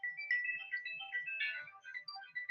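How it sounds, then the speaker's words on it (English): A phone ringtone for an incoming call plays as a melodic electronic tune, moderately quiet and continuous with a steady rhythmic pattern, with no talking over it. "let me just drop this phone call here"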